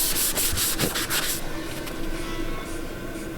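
Old paint on a 1983 Mercedes 300TD being buffed dry with no product, giving a loud, rough, steady rubbing that sweeps back and forth in strokes at first, then settles into a continuous close-up grind.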